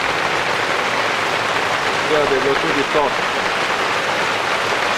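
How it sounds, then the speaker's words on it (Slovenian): Steady, dense hiss of mixed rain and snow falling outside a lodge in the Langtang Himalaya, Nepal, fills the whole stretch, with a person speaking briefly over it in the middle. "Slišite, kako šumi dež, zunaj pa pada dež s snegom."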